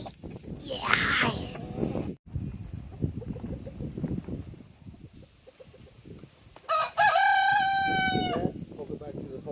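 Backyard chickens named Red, Ace and Yellow Hen cluck in a winter chicken run, and a rooster crows loudly near the end, with a person's voice nearby.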